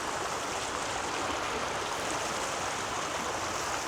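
Water rushing through a road culvert roars steadily at close range, a broad, even hiss with no pauses or voices.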